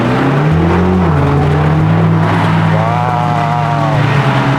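A BMW X5M engine revs hard while accelerating in second gear, a loud, rising roar that climbs in pitch, dips at a shift point, then climbs again close by.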